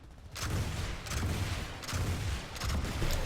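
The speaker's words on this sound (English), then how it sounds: "So here's how these shoot: 14 rounds in each with the extended mag." A GU08 MAX weapon fires in PlanetSide 2, four loud bursts of heavy booming shots separated by short pauses, close and without talking.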